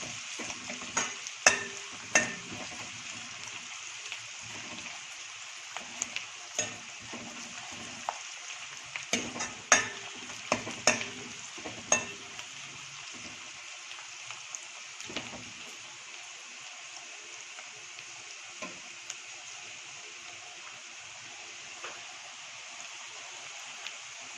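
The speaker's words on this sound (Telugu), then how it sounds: "లైట్ బ్రౌన్ కలర్ అయ్యేంత వరకు ఆనియన్స్ వేయించండి." Chopped onions fry on a high flame until light brown for a spinach chicken fry. A steady close sizzle runs throughout, broken by scattered sharp scrapes and clicks from stirring, with no talking.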